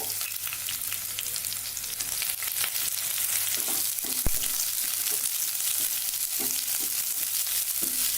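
Sliced onion fries in a pan for cauliflower kurma, a steady close sizzle running throughout with occasional stirring clinks, no voices.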